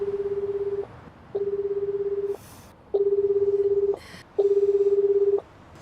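Telephone call being placed, with four evenly spaced long electronic tones, each about a second, separated by short pauses, clear and alone at moderate volume.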